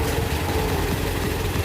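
A Toyota 7K car engine idles with a steady, loud, rough rumble, checked during a stethoscope engine diagnosis.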